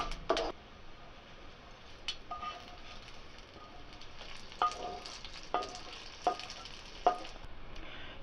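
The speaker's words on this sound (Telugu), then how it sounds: "చూడండి పోపు వేగింది దీన్ని చట్నీలో కలుపుకోవాలి" A curry leaf tempering fries softly in a small pan before it goes into coconut chutney, a faint steady sizzle broken by scattered crisp clicks and taps of a spoon.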